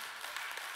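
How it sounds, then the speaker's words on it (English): Audience applause during a church sermon, a steady wash of clapping from a congregation, moderately faint and continuous with no talk over it. "You can clap anytime you want to."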